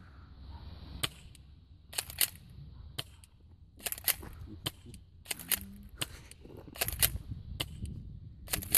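An A&K M870 airsoft shotgun fires in a run of about a dozen sharp, fairly quiet snaps spaced irregularly, with faint rustling and handling between shots and no talk.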